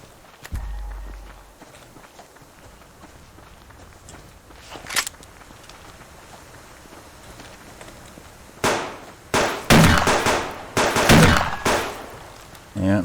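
Shotgun fire in a video game: a cluster of loud, sharp blasts in quick succession near the end, after a quieter stretch with a low thump and one isolated crack, with voices heard in places.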